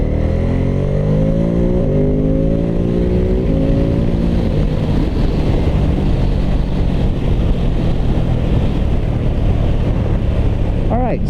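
A 2022 Ducati Supersport 950 sport bike pulls away on a road test ride, its engine climbing in pitch through a couple of gear changes before heavy wind rush over the rider's microphone swamps it.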